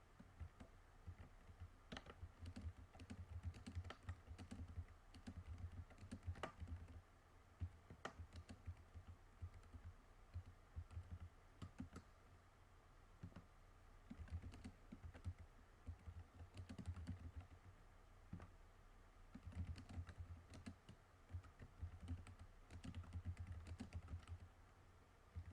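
Keys on a computer keyboard clatter in quick, irregular bursts of soft clicks for a long stretch, fairly quiet and close, with small pauses between runs of typing.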